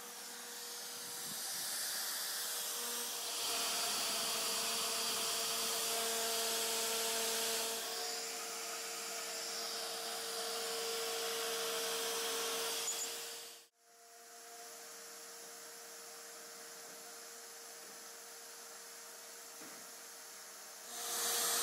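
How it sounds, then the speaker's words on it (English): A CNC machine cuts acrylic templates, giving a loud, steady high-pitched whine and hiss with a tonal drone that runs continuously, briefly cuts out near the middle, then resumes at a slightly lower level, no talking. "So we're just going to cut them out of some acrylic here with this CNC machine that Quincy built, and here we go."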